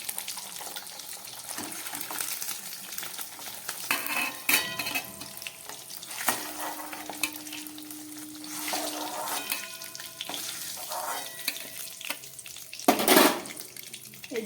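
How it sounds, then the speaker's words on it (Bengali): Boiled eggs frying in hot oil in a pan for a red restaurant-style egg curry, a steady crackling sizzle with occasional stirring scrapes and clinks, close and moderately loud throughout. "ডিমগুলোকে আমি একটু ভেজে নিলাম।"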